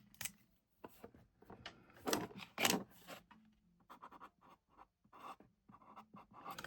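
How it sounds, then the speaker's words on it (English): Pen writing on paper, a scratchy run of strokes with louder bursts in the middle and shorter strokes toward the end, close and quiet with no talking. "Let me write that down as well."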